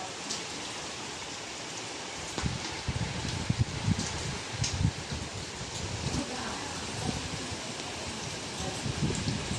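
Steady heavy rain pours during a high flood, a dense hiss of drops spattering on surfaces and foliage, with rustling and a few louder splashes rising from the constant wash.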